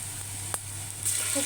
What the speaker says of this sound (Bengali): পেঁয়াজগুলো ভাজতে একটু সময় লাগে সময় নিয়ে ভেজে নিই